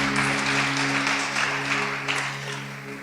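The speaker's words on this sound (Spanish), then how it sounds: "Denle un aplauso al Señor." Church congregation applauding during a sermon, a dense burst of clapping that is strongest at the start and gradually fades over three seconds, with a steady low tone underneath.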